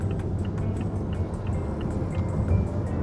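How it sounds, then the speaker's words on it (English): Steady low road noise hums inside a Mazda 6 GT SP 2.5L turbo wagon cruising along, a constant muffled rumble with faint ticks and no talking. "I'm conscious of a little bit of road noise"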